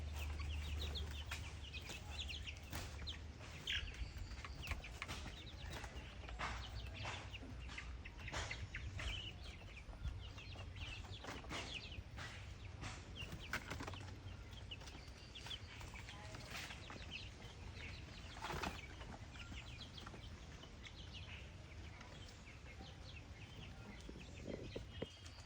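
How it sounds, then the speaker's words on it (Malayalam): Black Thalassery chickens cluck softly and sporadically at a distance, their faint calls scattered over a low, steady outdoor background hum for a long stretch with no speech. "ഇതൊക്കെ തലശ്ശേരി കോഴികളെ കറുപ്പ്"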